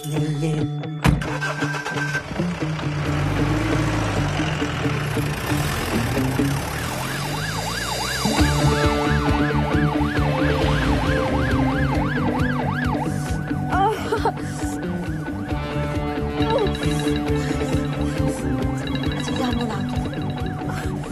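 A loud ambulance siren wails in repeated rising and falling sweeps for about twenty seconds over a running vehicle engine, rising in intensity partway through. No voices are heard.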